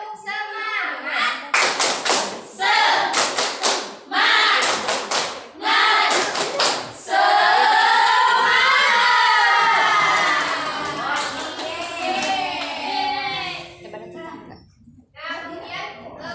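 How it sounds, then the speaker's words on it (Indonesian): Primary-school class doing a rhythmic spirit clap routine, children's hands tapping and clapping in patterned bursts mixed with loud chanting and shouting voices. "Tepuk semangat."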